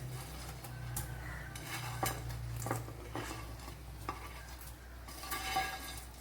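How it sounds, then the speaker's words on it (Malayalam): Tuna pieces go into a boiling home-made fish curry. Several sharp clinks and knocks of a utensil against the pot sound close by over a low steady hum, with light stirring and a faint bubbling sizzle. "ഇപ്പോൾ നമ്മളെ കറി നല്ലപോലെ തിളച്ച് വന്നിട്ടുണ്ട്. അപ്പോഴതിലേക്ക് ഈ മീനിനെ ഒന്ന് ഇട്ട് കൊടുക്കാം."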